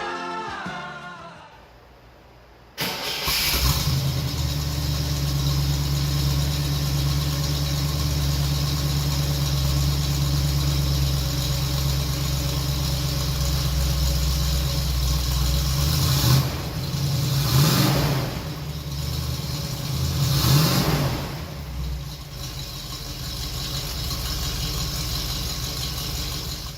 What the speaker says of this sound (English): This is my 1966 Oldsmobile Toronado.